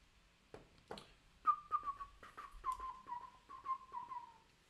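A person whistles a short, wavering tune in a series of gliding notes, close and fairly quiet, with a few soft clicks and knocks around it.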